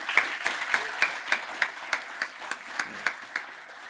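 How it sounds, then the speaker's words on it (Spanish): A small audience at a safety workshop gives a light, evenly paced round of applause, faint and steady with individual claps standing out, no talk over it. "Un aplauso para don Dionisio."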